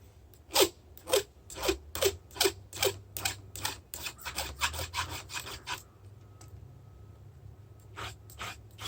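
A ripping chainsaw chain is hand filed tooth by tooth, each stroke a close, crisp rasp in a steady rhythm; about a dozen strokes run quickly, then pause before two more, over a low background hum.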